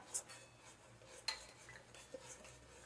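A spoon stirs kitchen king masala and coriander powder into matar paneer in a pan, giving a few faint, scattered clinks and scrapes against quiet kitchen background.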